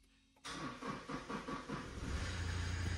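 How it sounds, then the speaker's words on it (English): A car engine with a weakening battery is cranked during an alternator ripple test: a run of rhythmic starter pulses, then it catches and settles into a steady, louder idle. "I'll try to start the car"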